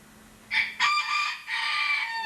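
A rooster crows loudly and close by in two long, strained calls, the second breaking into a drawn-out finish, over a quiet background.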